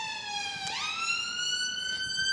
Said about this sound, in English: It's just a very loud emergency ambulance that's just gone straight past.